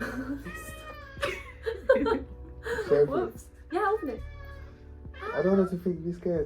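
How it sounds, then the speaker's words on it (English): A cat meows repeatedly, several drawn-out cries spaced a second or so apart, close by, while people talk and laugh over it. "if you hear meowing"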